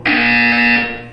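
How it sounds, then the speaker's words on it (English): A single loud, harsh electronic buzzer from the video game Portal 2 sounds for about a second, steady and tonal, then trails off slightly at the end. "When you hear the buzzer, look up at the ceiling."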